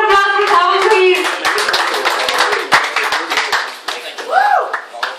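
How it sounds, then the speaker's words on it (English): An audience at a stand-up comedy open mic claps for a comedian, a burst of dense hand clapping that thins out, with a voice talking over the start and a shout near the end. "Big round of applause for Dhawal, please!"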